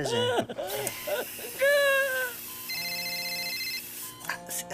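A telephone ringtone plays a repeating electronic melody of bright, regular beeps after someone speaks and makes a short exclamation; the ringing continues near and clear, with speech breaking in again at the end.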